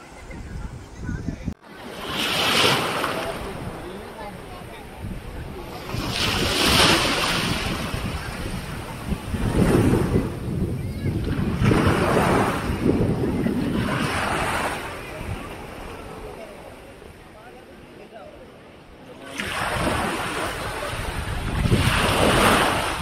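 Open sea waves near Phi Phi Island heard from a tour boat, surf surging and washing in repeated loud swells, with heavy wind buffeting the microphone throughout.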